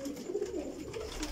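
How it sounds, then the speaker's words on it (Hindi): Pigeons cooing up close, a series of low, throaty rolling coos overlapping one another in a soft pulsing rhythm, with no talking. "कबूतर तुसी वेख लो"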